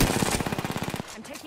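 Rapid automatic gunfire in a battle royale video game, a burst of about a dozen evenly spaced shots lasting roughly a second before cutting off, loud and close, with faint game sounds after.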